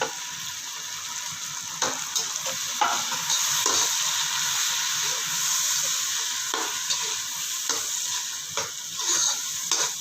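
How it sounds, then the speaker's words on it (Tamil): Onions, green chillies and tomatoes fry in a pan, a steady bright sizzle broken by repeated scraping stirs, close and fairly loud with no talk over it. "இந்தளவு வெங்காயம் வெந்துச்சுன்னா போதும் இப்போ பச்சை மிளகாயும் தக்காளியும் போட்டுக்கலாம்"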